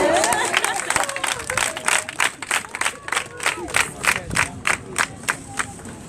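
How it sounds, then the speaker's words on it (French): An audience at a religious teaching gathering claps in a rhythmic, pulsing pattern of repeated bursts, fairly loud and close, with crowd voices mixed in. "N'applaudissez pas sans comprendre le sens."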